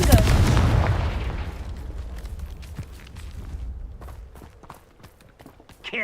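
A Confringo fire spell goes off in Hogwarts Legacy, opening with a loud, booming burst that rolls into a long, crackling decay. Smaller scattered impacts follow as the sound fades.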